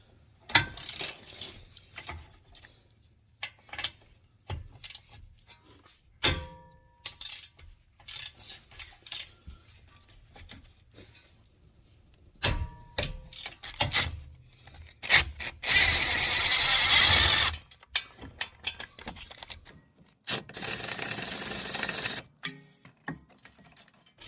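A ratchet backs out the 17 mm brake caliper bracket bolts on a Kia Sorento, with scattered clicks and metallic knocks throughout. Denser bursts of ratcheting come through near the end, close up and with no talking.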